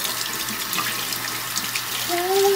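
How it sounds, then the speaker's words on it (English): Water runs steadily from a tap in a broad continuous hiss, close and fairly loud, and a brief rising squeak appears near the end. "She's gonna get mad when I turn the water off."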